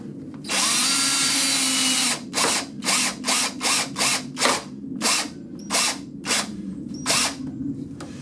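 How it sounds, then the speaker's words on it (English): A power drill with a square bit drives Robertson square-head screws into wood on barn-style doors: one long whir, then a quick series of about a dozen short bursts, close and loud. "they give you a bit with the kit to run the screws in"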